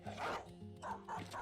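A dog barks in a fantasy battle in the video game Battle Brothers, giving a few short, sharp barks in quick succession that stand alone and close.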